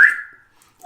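A person whistles a single clear, high note that fades and sinks slightly in pitch within a fraction of a second, followed by near silence.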